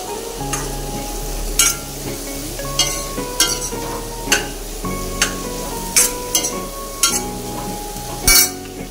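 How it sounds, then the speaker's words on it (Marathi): A spoon stirs an onion-garlic masala with bell pepper in a pan, sizzling steadily, with sharp metallic clinks and scrapes at irregular intervals and a sustained tonal hum underneath. "त्याच्यानंतर भोपळी मिरची, हे मिश्रण एकजीव करून घ्यायचं आहे।"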